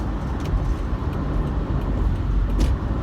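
Steady road and engine rumble from inside a car moving along a road, a continuous broadband drone with no distinct events.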